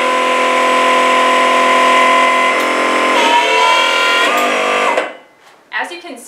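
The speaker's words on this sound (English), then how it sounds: "With the pendant, now we'll turn on the pump motor." An Enerpac ZC-Series battery-powered hydraulic pump's motor runs with a loud, steady, close hum that holds for about five seconds and then cuts off, followed by a brief faint mechanical noise.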